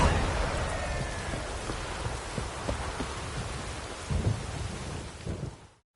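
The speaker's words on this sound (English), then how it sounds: "No use doing any work in this rain." A thunderstorm in The Witcher 3: Wild Hunt, with rain hissing on surfaces and deep rolls of thunder that swell near the end before the sound cuts off.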